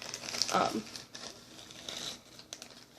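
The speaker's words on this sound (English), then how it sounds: "Oak moss, I'm going to have to rip up a bit" Dry, crisp crinkling and tearing of brittle dried oak moss close up, with a voice faintly under it.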